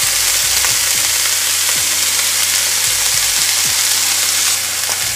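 Green onions hitting a hot pan of chicken fried rice, a loud, dense, continuous sizzle with occasional scraping of a utensil against the pan and no speech.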